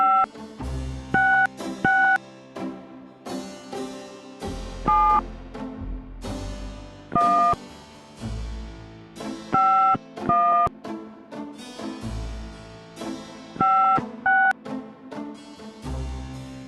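Telephone keypad tones dialing an international number in the Gabriel Knight video game, short paired beeps in quick sequences with pauses between groups, over low background music.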